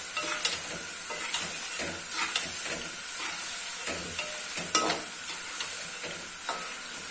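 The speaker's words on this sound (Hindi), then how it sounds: "चने की भुनाई अच्छे से करेंगे" Chickpeas with ground spices and yogurt being stir-fried in a pan for an Eid dish in Pakistan, a steady soft sizzle broken by scraping spoon strokes and clinks, fairly quiet and close, with no talking.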